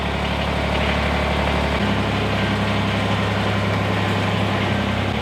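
A tractor engine runs steadily while launching a micro houseboat, a deep continuous idling rumble with a slight pitch shift partway through, close and loud with no talk.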